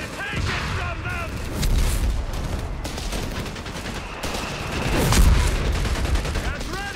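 Infantry gunfire rattles through a Company of Heroes 3 battle, a dense, steady fusillade of rifle and machine-gun shots with heavier booms swelling midway, while voices shout under the firing.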